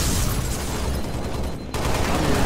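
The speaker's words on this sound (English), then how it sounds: "There's all these gunshots raging throughout sword base" Dense, continuous gunfire rattles through a Halo: Reach battle at Sword Base, a steady wash of overlapping shots with a brief dip before the barrage resumes.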